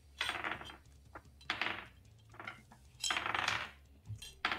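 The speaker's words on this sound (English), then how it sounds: "lot of dice sounds. It's a lot of dice." Dice tossed and clattering across a table in repeated bursts of sharp rattling clicks, with short quiet gaps between rolls.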